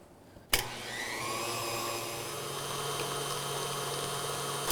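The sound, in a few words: stand mixer with paddle beating cream cheese buttercream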